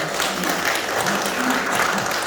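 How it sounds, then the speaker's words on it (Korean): An audience applauds at an opening ceremony for a logistics center relocation, a dense, steady wash of clapping filling the short moment without a break. "박수 부탁합니다."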